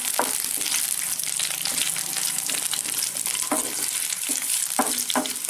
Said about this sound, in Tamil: பூண்டு, இஞ்சி, வெங்காயம். இதை நல்லா வதங்கட்டும்.